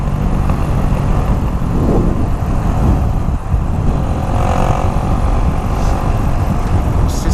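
Car engines roar continuously in a racing video game, a dense, loud rumble with shifting pitch and no talk.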